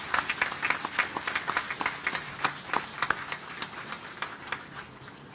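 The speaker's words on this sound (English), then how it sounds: "Round of applause, please, afterwards." Scattered applause at the christening of the USNS Navajo (T-ATS-6) salvage and rescue ship, a gathered audience clapping in uneven bursts that stay moderate and gradually thin out over several seconds.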